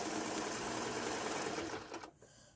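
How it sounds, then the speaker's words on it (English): A sewing machine stitches in the ditch along a fabric fold, a steady, close mechanical whir that runs continuously before slowing and stopping near the end. "And I'm just sewing."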